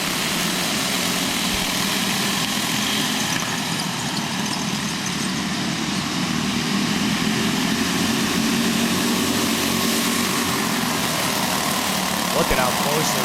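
Small go-kart engines drone steadily in a backyard race, a continuous buzzing roar of several karts at close range, with a commentator talking over it.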